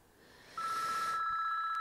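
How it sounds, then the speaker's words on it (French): A telephone rings with a loud, steady electronic tone that begins partway in and continues, coming after a softer lead-in with no talking. "Pardon, j'ai le téléphone qui sonne."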